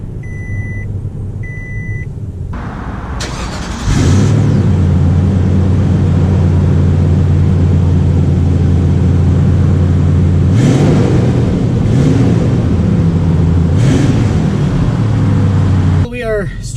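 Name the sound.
2019 Toyota Sequoia Platinum starting off on a drive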